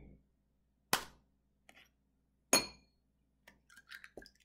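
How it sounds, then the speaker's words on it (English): An egg cracked for coconut lime macaroons gives two sharp close knocks against a hard edge, followed by faint shell and glass clinks as the white is separated; no talking. "now I'm going to crack the egg, and then we're going to separate the egg white"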